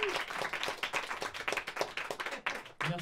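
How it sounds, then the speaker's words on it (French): Audience applause from a live public show: a sustained burst of close, crisp hand clapping with a brief dip near the end before it resumes. "Applaudissements,"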